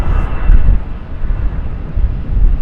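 An airplane departing Charlotte Douglas International Airport, heard as a steady, loud low rumble of jet engine roar mixed with wind buffeting the microphone, sustained throughout with no talking.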